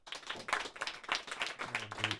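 A live studio audience claps in a quick, dense round, voting for the right-hand watch during a French public-episode show, with a brief voice tone rising under the applause near the end.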